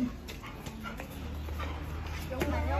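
A dog whimpers and yips in short high whines beneath steady talk outdoors, with the cries rising toward the end.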